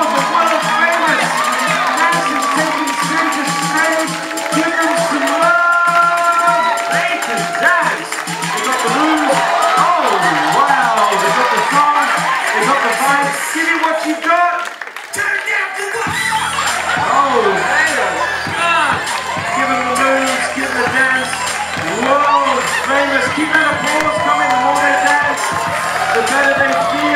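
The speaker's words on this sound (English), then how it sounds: "Give them a round of applause for one of the famous!" A lively crowd at a hypnotist show at Cape Fear Community College cheers, shouts and whoops continuously, with excited children's voices mixed in and music-like tones underneath, loud and close.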